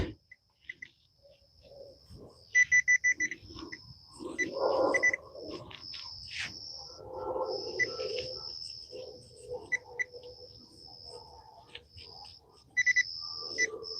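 A metal detector sweeping over ground during a night coin hunt gives intermittent high, warbling electronic tones and crackly chirps over an iron target, with brief gaps and faint rustling between signals.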